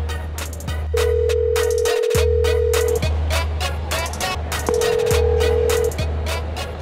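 Phone ringing while a call waits to be answered: two long electronic ring bursts separated by a pause, over a low steady hum and background noise.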